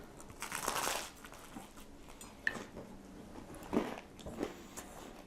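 Crunchy bites into a toasted piece of food, a few crisp crackles and crunches at close range against a quiet background.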